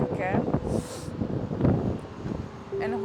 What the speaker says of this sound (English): It's very windy today as well, so please don't mind the difficulties today.